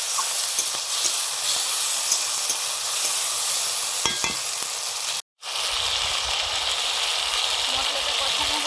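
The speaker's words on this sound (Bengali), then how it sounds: "এবারে দিচ্ছি আদা জিরে ধনে বাটা, আর সঙ্গে লঙ্কা হলুদ মেশানো আছে।" Ginger, cumin and coriander paste mixed with chili and turmeric sizzles loudly and steadily in a hot pan, a continuous frying hiss with a brief cut-out partway through.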